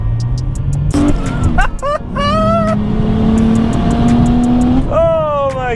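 A single-turbo BMW 335i with an N54 engine accelerates hard through several gear changes, the engine note climbing in sweeps with brief breaks between shifts, loud and close, with some talk mixed in.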